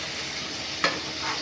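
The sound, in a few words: liver chakna frying and stirring in a pan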